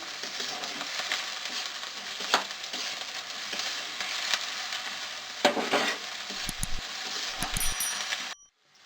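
Garlic paste sizzles and fries in a hot pan with onions as a spoon stirs it, steady crackling broken by sharp scrapes and clinks of the utensil against the pan, then the sound abruptly stops.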